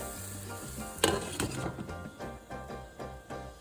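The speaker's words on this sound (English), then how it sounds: "I'm going to put it on a low heat, just so that the red peppers can kind of saute and become soft" Red peppers sauté in a pan with a soft continuous sizzle, broken by a sharp clatter of cookware and a few lighter clinks, close and moderately loud, with no talk.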